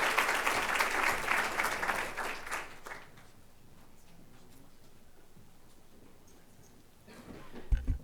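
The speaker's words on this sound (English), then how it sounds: "It's a big round of applause." Audience applause after a talk at a Trojan community breakfast event, loud and dense for about three seconds, then fading to quiet room tone, with a brief burst of noise near the end.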